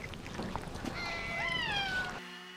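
A single cat meows faintly in a house full of cats, a drawn-out rising and falling cry over a low background hum.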